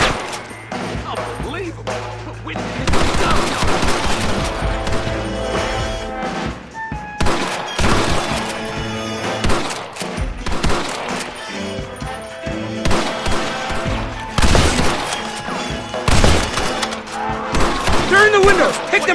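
Shooting from a gunfight in the Xbox 360 game Red Dead Redemption, with repeated cracks and bursts of gunfire over a loud musical score and shouting voices.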